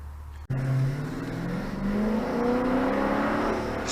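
A Dodge Charger Daytona 392 engine bursts into a hard acceleration, its loud close roar climbing steadily in pitch as the revs build, with no voices.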